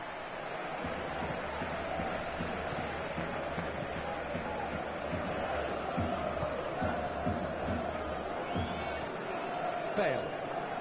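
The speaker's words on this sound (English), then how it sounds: "Crowd appreciates good football all round there." Stadium crowd in the football video game PES 2016, a steady dense roar of murmuring spectators with a slight swell, under a commentator's voice throughout.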